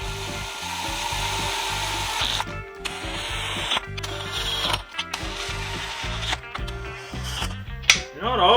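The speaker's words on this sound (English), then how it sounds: "It's a drill, not an impact." A power drill whirs in steady, loud runs with brief pauses and scraping, rubbing contact while parts go into a small-block Mopar engine during a rebuild.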